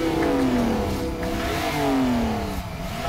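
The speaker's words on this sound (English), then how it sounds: "and of course a sport exhaust system." Engine of a 2017 Porsche 911 GTS with sport exhaust revving loudly, rising then falling in pitch twice, close and alone with no talk.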